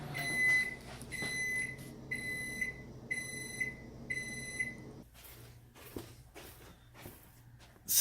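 A microwave oven heating beans runs with a steady low hum, punctuated by repeated short electronic beeps in a regular rhythm near the start, then quieter clatter and scattered knocks.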